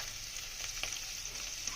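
Steady hissing sizzle of shrimp frying in hot oil, a continuous bright crackle with a few faint clinks, and nobody speaking.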